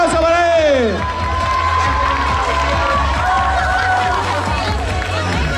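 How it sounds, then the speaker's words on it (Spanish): A crowd of schoolchildren at a student race prize ceremony cheers and shouts loudly for a winner. High young voices call out continuously, with faint clapping buried under the din. "¡Un aplauso para él!"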